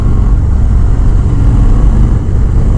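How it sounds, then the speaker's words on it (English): A 2019 Harley-Davidson Road King Special engine runs close and loud during a test ride, a deep, steady rumble mixed with wind roar. "the engine makes the standard Harley Davidson noise"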